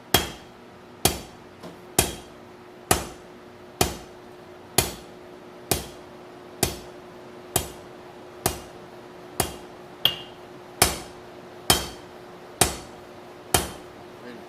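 A blacksmith's hammer strikes hot metal during forging, about fifteen sharp, ringing blows landing at a steady pace of roughly one per second, each one close and loud with a brief metallic ring as it fades.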